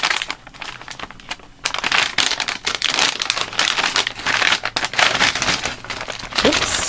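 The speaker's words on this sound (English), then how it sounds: "Excuse me for the crinkle wrinkle." Plastic wrapping on a happy-mail craft package crinkles and crackles nearby in busy, continuous bursts, with a brief quiet stretch before the rustling resumes and keeps going.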